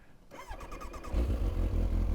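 A Kawasaki Ninja motorcycle engine fires up and settles into a loud, close, throaty running note after a brief whirring start, with no voices.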